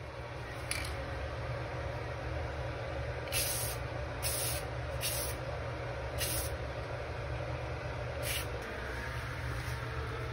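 An airbrush sprays a light coat of white paint onto a helmet, giving a steady soft hiss with several short louder bursts of spray over a low background hum.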